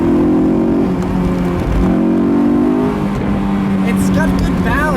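A 2002 Honda S2000 engine revs hard on back roads, a loud, sustained steady drone that climbs and dips through the gears across the whole stretch, with faint chirps near the end.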